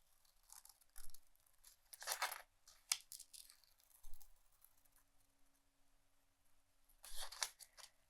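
Scissors cut through paper for a collage, snipping in short, quiet bursts separated by pauses; the sounds are close and soft, with no talking.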